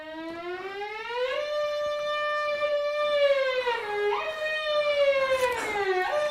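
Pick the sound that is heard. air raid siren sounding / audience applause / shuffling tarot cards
air raid siren sounding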